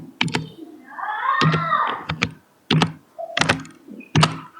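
Computer keys are tapped in short, distinct clusters of sharp clicks with pauses between them, and a brief wavering tonal cry rises between the first bursts.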